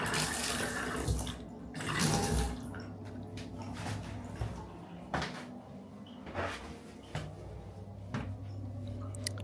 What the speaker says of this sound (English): I could then turn the mains water on fully.